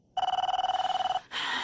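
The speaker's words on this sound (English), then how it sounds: "it sounds like my phone!" A telephone rings with one rapid warbling bell burst lasting about a second, loud and close, then cuts off abruptly into a brief noisy rustle.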